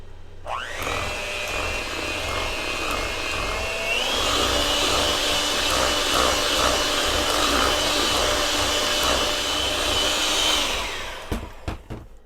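Electric mixer starts up and runs steadily, blending a no-bake lemon cheesecake mixture with lemon extract and vanilla extract, its whine rising in speed partway through before cutting off with a few clicks.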